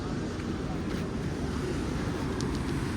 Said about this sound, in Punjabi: ਇਹ ਛੋਟੀ ਜੀ ਨਦੀ ਹੈ ਜਿਹੜੀ ਤੁਹਾਨੂੰ ਦਿਖਾਈ ਸਰਸਵਤੀ